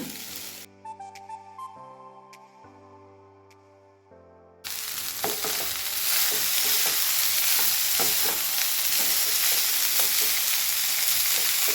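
Cooked rice being stirred into a mango mixture in a pan, heard as a steady loud scraping and sizzling that takes over after a few seconds of background music, with no talking.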